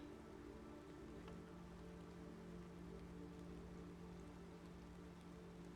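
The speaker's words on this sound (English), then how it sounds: "It's raining outside, but there's no system in the game for roofs for rain." Rain falls steadily in the underwater survival game Subnautica, a soft, continuous patter of drops on surfaces that stays even and fairly quiet from start to finish.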